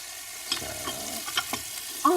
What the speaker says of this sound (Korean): 저희도 지금 생방 중에 굽고 있는 거니까